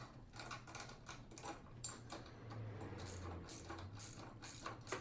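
A nut being loosened on the horn bracket of a Can-Am Ryker motorcycle: quiet, uneven mechanical clicks and ratcheting ticks over a low steady hum, with no talking.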